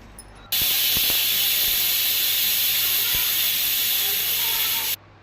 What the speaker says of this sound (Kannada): ಹಾಗಾಗಿ ತೊಗರಿಬೇಳೆ ಕುದಿಸಕ್ಕೆ ಇಟ್ಕೊಳಕತ್ತೇನೆ